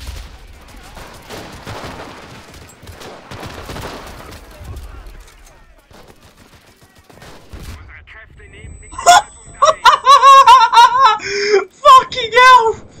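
Rapid bursts of machine gun fire in the World War II shooter game Enlisted, loud and close at the start, with an excited voice shouting over later shots.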